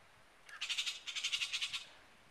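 Startled bird, scared by a cat, squawks in a fast series of about a dozen harsh rhythmic calls in two quick bursts, moderately close against a quiet background.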